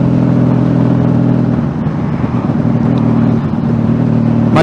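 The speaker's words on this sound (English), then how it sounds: "Hey, that's an old truck." An old truck drives past with a loud, close engine drone, a steady low hum with a slight swell, running throughout with no voices.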